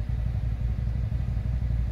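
A 2013 Nissan Rogue engine runs steadily with a low, even rumble and faint clatter, close and continuous without any talk.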